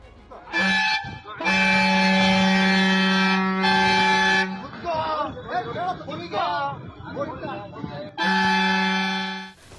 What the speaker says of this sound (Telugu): ఓ డ్రైవర్ను అదే బస్ ముందు కూర్చోపెట్టి హారన్ వినిపించారు